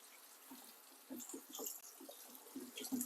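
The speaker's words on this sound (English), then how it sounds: "So I'm going to drain it off. I'm going to shock it with cold water." Cold tap water runs and splashes faintly into a sink as cooked macaroni is drained and rinsed, with irregular bursts of trickling and spattering.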